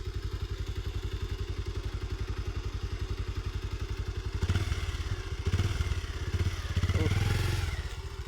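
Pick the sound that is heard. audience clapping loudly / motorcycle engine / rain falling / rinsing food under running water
motorcycle engine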